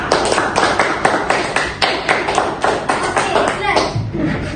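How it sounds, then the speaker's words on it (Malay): Pupils in a classroom clap for a classmate, a loose, uneven burst of hand claps that thins out toward the end, with voices murmuring underneath. "Berikan tepukan kepada Insyirah."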